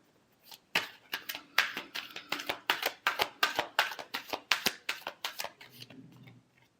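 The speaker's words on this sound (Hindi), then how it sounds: "Last shuffle." Close, rapid shuffling of tarot cards gives a steady run of crisp, rhythmic slaps and riffles that builds, then stops with a soft shuffle of handling at the end.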